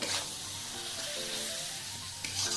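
Spice paste cooks in mutton fat with a splash of water, a soft, steady sizzle and bubbling hiss, close but fairly quiet, with a faint stir or scrape near the end.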